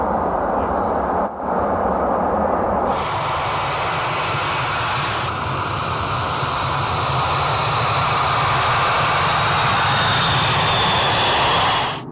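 A loud, steady airplane engine roar that fills the whole stretch, holding near-constant intensity with a brief dip early on and a slight shift in tone partway through, then cutting off at the end.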